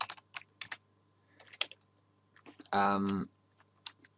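Keyboard keys clicking in irregular bursts while Python code is typed on a computer, close and fairly quiet, with a short louder stretch partway through.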